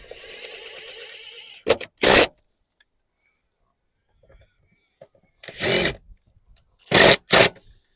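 An impact driver tightens bolts on a fire extinguisher mount in a Ford Territory, giving two short, sharp bursts and a pair of quick final hits, with softer handling noise and fumbling between them.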